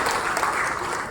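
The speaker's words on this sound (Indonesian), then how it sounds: "Berikan tepuk tangan sekali lagi untuk HBT." Audience applause fills a hall at the evening inauguration of the Sri Bakti building in Padang, a steady, dense wash of many hands clapping without pause.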